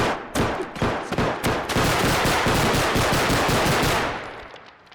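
Loud, close gunfire in the Bodycam video game, rapid bursts of shots fired in quick succession before trailing off.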